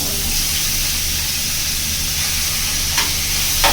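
Onions sizzle and fry in a hot pan while being stirred for a chicken curry, a steady broadband hiss running throughout with a brief scrape near the end.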